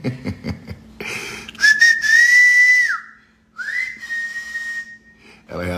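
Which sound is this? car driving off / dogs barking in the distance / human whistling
human whistling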